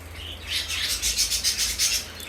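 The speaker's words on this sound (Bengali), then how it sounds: "সিরাজি কবুতর, কবুতরের বাচ্চা" Sirazi pigeons and their young squabs calling in a bird enclosure, a run of soft repeated chirping calls in quick pulses, fairly close and steady, with no voices.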